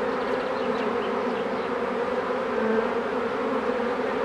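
A mobile primary honeybee swarm out in a field, its dense, steady buzzing holding close and loud for the whole stretch, with no voices over it.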